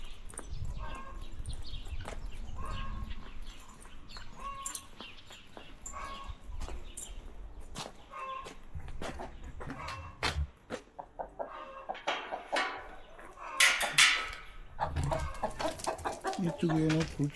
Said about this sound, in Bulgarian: Там се чуват кокошки.